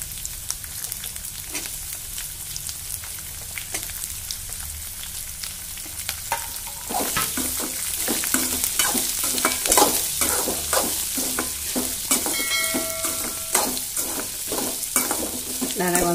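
Onions frying in a pan for raw mango chitranna, a constant sizzle that swells louder partway through, with repeated scraping and tapping of a stirring spoon close by and no speech.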